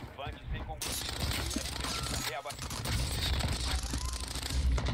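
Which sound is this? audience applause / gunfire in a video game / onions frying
gunfire in a video game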